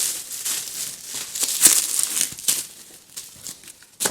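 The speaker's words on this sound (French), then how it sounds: "c'est parti pour le libérer de son papier bulle" Bubble wrap crinkles and crackles up close in irregular bursts as it is handled and pulled apart from a 2007 black MacBook.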